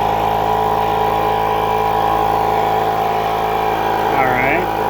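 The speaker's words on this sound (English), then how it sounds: "here's the first startup of my California Air Tools 8010A ultra quiet air compressor" A California Air Tools 8010A ultra quiet air compressor runs with a steady, even hum throughout, close by. A person talks over it briefly near the end.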